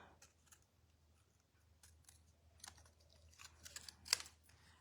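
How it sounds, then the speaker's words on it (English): Scissors snip paper close to stamped words to trim a narrow banner for a handmade card, a few quiet, uneven cuts up close, the last one sharper and louder. "This time I'm going to sort of trim it sort of close to the words"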